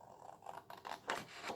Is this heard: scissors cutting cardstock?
yes